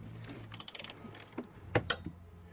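A wrench ratchets on the front shock nut of a 1994–2002 two-wheel-drive Dodge Ram, giving a quick run of close clicks followed by a few scattered clanks and clicks, fairly quiet and with no talk.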